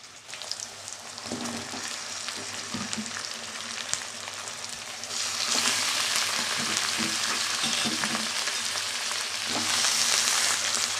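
Chicken meat sizzles and fries steadily in hot oil in a pan with onions, a dense crackling hiss that grows louder midway with occasional stirring scrapes.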